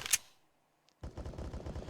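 Automatic gunfire in a Counter-Strike match on the Overpass map, sprayed through smoke as a long, dense burst of rapid shots that follows a sharp single crack and a near-silent pause.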